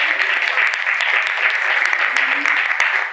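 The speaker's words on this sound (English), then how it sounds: "Can I have a little hand of applause for that?" A room of new consultants at an orientation session gives steady applause, continuous bright clapping that holds at an even level for about three seconds.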